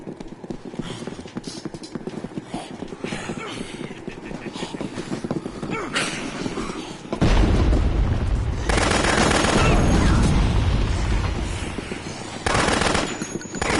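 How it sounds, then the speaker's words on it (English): Bursts of rapid gunfire in a video game crackle in quick, rattling volleys, some sharp and near, others distant, with louder sustained bursts later on. "Where are these gunshots coming from?"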